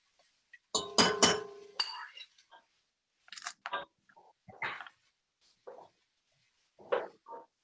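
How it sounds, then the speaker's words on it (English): Peppers and garlic are stirred in a cooking pot for sausage stew, giving bursts of clinking and scraping utensil-on-pot sounds, loudest at the start, then sparse taps separated by near silence. "I'm throwing in the peppers and the garlic right now. And stirring it up."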